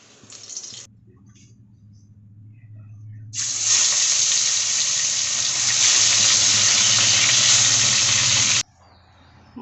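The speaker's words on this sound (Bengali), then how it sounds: "এবার লবণ হলুদ মাখিয়ে ভেজে নেব।" Bata fish rubbed with salt and turmeric frying in hot oil, a loud steady sizzle rising abruptly and holding for several seconds before cutting off, with quieter kitchen noise before and after.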